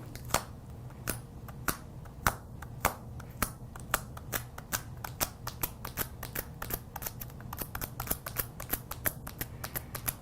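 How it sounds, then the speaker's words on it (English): Painter's tape is dabbed repeatedly onto a surface to lift off excess gold foil pieces, producing a fast, steady series of soft, close tapping and sticky peeling clicks. "we're gonna dab up and down and remove all the extra gold foil"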